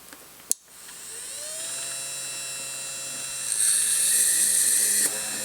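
An Innocraftsman mini drill press of about 16 to 17 watts bores through a workpiece: a sharp click, then a thin motor whine that climbs in pitch, steadies, grows louder and harsher partway through, and cuts off near the end.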